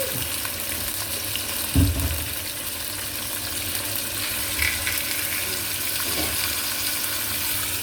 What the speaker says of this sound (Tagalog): Prito na natin ang chicken.